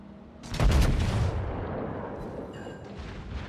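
Warship main batteries firing high-explosive shells in the naval game World of Warships: one loud booming salvo with a rolling low rumble that decays slowly over a few seconds, followed by fainter distant shots.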